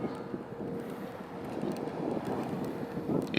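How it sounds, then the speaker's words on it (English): Steady wind rushes across an open, breezy cove at a national sailing centre where small sailboats are moored, a continuous broadband buffeting with slight swells in strength and no voices. "It's a nice windy area"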